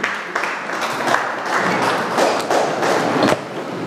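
A church congregation applauds to acclaim the king, a dense, steady wash of clapping with a few heavier thuds, sustained and fairly close.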